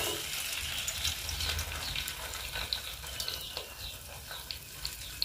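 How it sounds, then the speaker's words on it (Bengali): Egg-dipped food frying in hot oil at close range makes a steady broadband sizzle. Small crackles and pops rise out of it now and then, with no talking. "তো এটা এখন তেলে দেব।"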